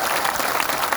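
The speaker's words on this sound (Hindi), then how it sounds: "हमको एक बार जोरदार तालियां मोदी जी के लिए बजाने को" Dense, steady applause from a large crowd at a political rally fills the whole moment without pause, loud and continuous.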